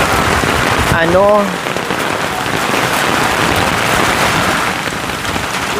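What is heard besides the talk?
heavy rain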